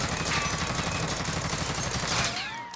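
Rapid, dense automatic fire from an XM4 rifle fitted with a flash guard in the Warzone video game, a continuous loud burst that tails off slightly at the end.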